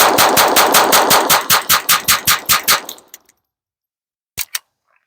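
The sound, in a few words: Taurus TX22 Competition .22 pistol rapid firing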